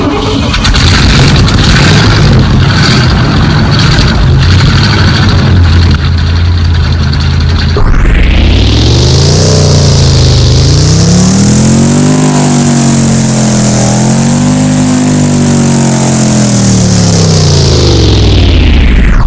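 A 1959 Cadillac engine in the video game Driving Empire cranks and catches, then revs up and down in strong, rising and falling surges, loud and close, without any talking.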